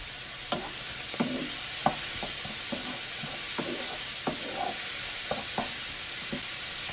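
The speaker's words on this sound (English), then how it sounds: "now I have sauteed my mushrooms. I'm gonna throw in some of the garlic." Garlic tossed into a pan of sautéed mushrooms sizzles loudly and continuously, with a dense frying hiss and scattered taps and scrapes of stirring over it.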